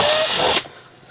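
A power drill drives screws while mounting a fitting, one loud whirring burst of about half a second that stops abruptly, followed by near silence.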